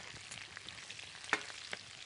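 Chopped liver, peppers and garlic frying in lamb fat in a pan, Alexandrian-style, giving a soft steady sizzle with a few sharper crackles and pops, heard close and alone with no talk.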